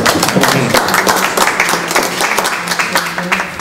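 Dense applause from an audience, many hands clapping quickly and evenly at a steady loud level throughout.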